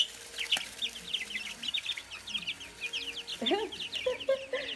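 Several chickens clucking and chattering close by, a busy flock with soft repeated calls and a louder squawk partway through.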